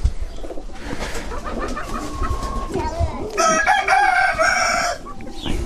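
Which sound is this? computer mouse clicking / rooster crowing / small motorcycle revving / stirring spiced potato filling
rooster crowing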